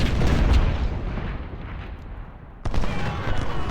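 Artillery battery firing in the Ultimate General: Civil War game, a loud booming rumble that fades, then a second sharp blast followed by rolling battlefield noise.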